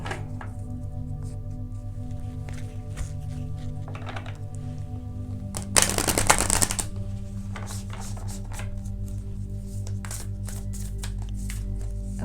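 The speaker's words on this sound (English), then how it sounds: "I'll just shuffle until I feel like picking one" Tarot cards being shuffled by hand, soft repeated card taps and slides over a steady background hum, with one brief louder riffle burst midway, no voices.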